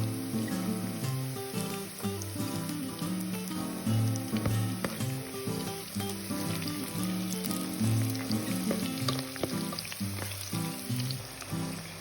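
Garlic sizzles steadily in a frying pan while pancit canton is cooked in a home kitchen, a dense continuous crackle with a few light clinks and stirring noises, close and moderately loud, with no talking.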